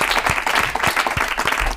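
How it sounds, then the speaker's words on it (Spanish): A studio audience breaks into dense, steady applause for a quiz-show contestant, many hands clapping together loudly and continuously from start to finish. "un fuerte aplauso para Eva"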